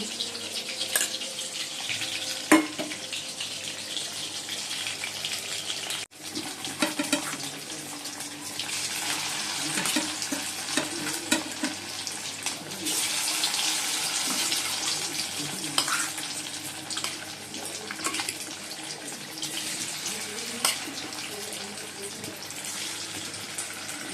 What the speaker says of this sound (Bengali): এই যে চিকেনগুলো ভাজা হয়ে গেছে